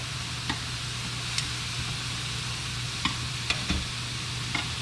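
Eggplant cooks in a pan with a low, steady sizzle and a few sharp ticks and clicks of utensils scattered throughout, no talking.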